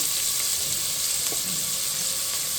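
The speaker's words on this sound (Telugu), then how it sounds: "ఉల్లిపాయలు మటుకి బాగా వేగాలండి" Chopped onions with salt sizzle steadily in hot oil in a pan, a continuous bright frying hiss with a faint clink of stirring partway through, no voices.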